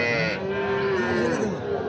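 A calf at a village cattle market in Raniganj gives one loud, close, drawn-out moo that wavers in pitch.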